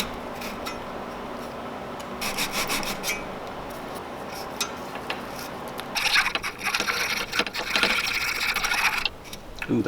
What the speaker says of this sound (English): Just gonna keep filing down on it till it sits depth-wise into the slot correctly.